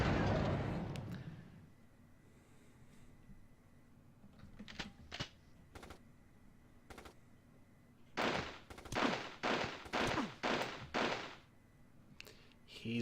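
Mortar fire in the Army Men video game: a run of sharp, evenly spaced blasts in quick succession, preceded by a few isolated thumps and a rushing sound at the start.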